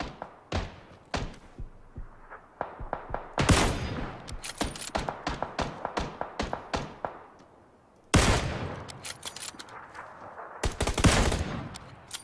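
Video game gunfire in a firefight where a buggy is nearby: rapid bursts of close, sharp shots, with heavier volleys breaking out in dense clusters. No talking is heard.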